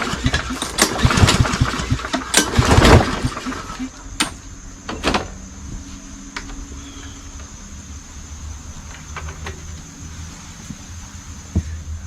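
Cub Cadet walk-behind push mower, brand new but hard to start, cranked by pull cord: a loud burst of rough engine sputter that fails to catch, followed by a few isolated knocks and near quiet.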